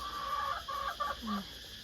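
A few short clucks from a chicken, fairly faint, heard over a steady hum of background noise outdoors.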